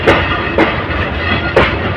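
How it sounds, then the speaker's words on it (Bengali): The Parabat Express rolls into the platform at Kadamtala station with loud, close wheel clacks over rail joints, three heavy knocks spaced under a constant rumble. "স্টেশনের এক নম্বর প্ল্যাটফর্মে এসে ট্রেনটি যাত্রা বিরতি দিচ্ছে"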